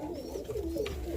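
A roller pigeon cooing softly nearby, a brief low throaty coo rising and falling over faint background noise.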